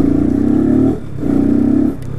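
A 250cc motorcycle engine idling without an air filter, a loud, close, throbbing rumble that rises and dips twice in pulsing surges.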